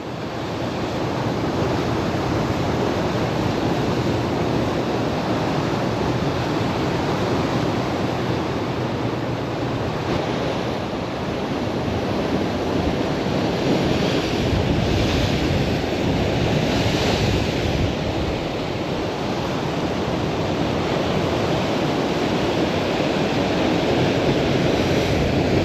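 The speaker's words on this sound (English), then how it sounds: "the trouble is that wind knocks it every now and again. I was too busy looking at these waves." Sea waves surge and wash continuously off the Guernsey coast during a fishing trip, with strong wind buffeting the microphone in a loud, steady roar that swells and eases throughout; no one speaks.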